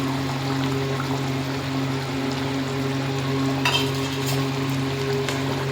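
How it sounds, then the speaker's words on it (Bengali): Sesame and melon seed paste going into a simmering katla fish kalia curry, a steady low bubbling and sizzling from the pan with a brief stirring scrape near the end, no talk. "এবার তিল আর মগজটা দিয়ে দেবো।"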